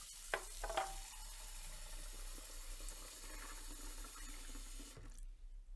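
Tap water runs steadily over a dried-out fountain pen being rinsed and flushed at a sink, a continuous splashing hiss with a couple of sharper splashes early on, then the flow cuts off near the end.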